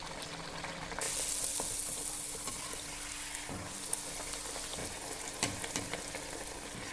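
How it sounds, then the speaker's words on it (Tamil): Paneer poori deep frying in hot oil, a steady close sizzle and hiss running throughout with a few soft pops and bubbling crackles, no voices. "இப்போ இதை பூரி பொரிச்சு எடுத்துடலாம்"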